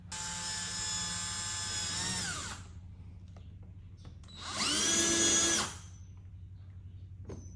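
A power drill drives screws into the rear diffuser of a 2006–2013 Lexus IS 350 in two close, loud bursts. Each burst whines steadily, then its pitch drops as the screw seats, with a short pause between.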